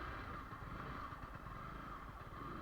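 Yamaha R15 V4 motorcycle engine straining on an off-road climb, a steady, fairly faint droning hum with no clear revving changes, heard alone without talk.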